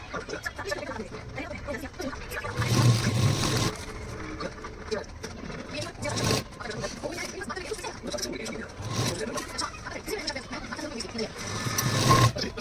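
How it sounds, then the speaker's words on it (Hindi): A sewing machine stitches double-folded saree fabric in short bursts, its motor whirring up and stopping several times at close range while someone talks throughout. "कपड़े को इस तरह से हमें डबल फोल्ड करके इस पर सिलाई चला लेनी है"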